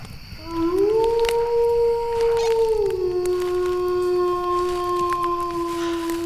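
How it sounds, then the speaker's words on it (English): A wolf howl sound effect played from a soundboard: one long, steady, rising tonal howl with harmonics that holds for several seconds and then settles lower, loud and clean with no talking over it. "The wolf howl is back."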